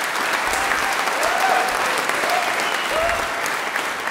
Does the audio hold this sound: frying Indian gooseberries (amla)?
no